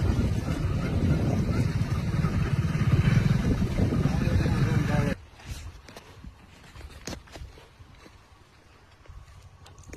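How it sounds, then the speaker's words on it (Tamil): A motorcycle ride with heavy wind rush and a low engine drone for about five seconds, then a sudden drop to quieter rustling and scattered knocks. "பைக்கில் போகிறோம்."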